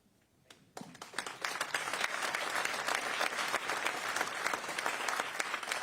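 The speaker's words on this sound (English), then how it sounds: "Yeah, I clapped on that one." Audience applause breaks out at a town hall meeting, starting after a brief quiet moment and building into loud, dense clapping from a sizable crowd that holds steady to the end.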